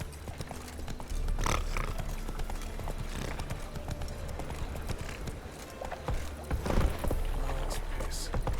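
Roach, the horse in The Witcher 3, trots with a steady rhythmic clip-clop of hooves, close and continuous over ambient wind, with someone talking now and then above it.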